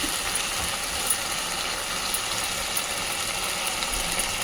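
Water pours into a pan of mutton fry, giving a steady, close hiss and rush that holds evenly throughout with no talking.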